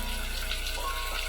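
Hot rice-boiling water being poured over dried red chillies in a kitchen, a steady close splashing gush heard on its own.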